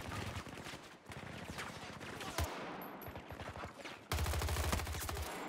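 Rapid M16A3 rifle fire in the shooter game Battlefield 2042 crackles in repeated automatic bursts, loud and close, with brief pauses between volleys and a heavier low-end burst toward the end.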